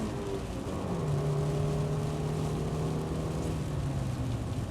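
A Honda Civic engine revs steadily and loudly, its pitch holding then easing slightly, a close continuous drone with no talk over it.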